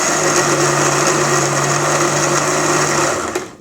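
Electric blender whirring steadily as it mixes a mango, strawberry and yogurt smoothie, a loud continuous motor drone that winds down at the end.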